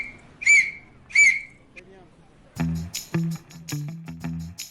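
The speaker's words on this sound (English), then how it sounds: "Archie, here's your lifeguard whistle." A lifeguard whistle blown twice in short, shrill, evenly spaced blasts, followed by bouncy cartoon music.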